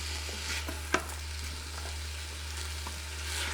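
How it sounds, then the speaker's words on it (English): Beef and vegetables sizzle on high sear sauté in a pressure cooker for beef and barley soup, a steady close frying hiss with a few sharp stirring clacks and a constant low hum underneath. "We're gonna keep going on high sear saute"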